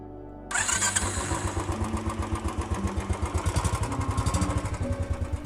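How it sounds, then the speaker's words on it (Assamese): A motorcycle starts up on a foggy, cold night road, the engine catching after a brief quiet moment and settling into a steady, close, loud rhythmic idle with regular pulsing beats. "সৌৰভে বাইকখন ষ্টাৰ্ট দিলে।"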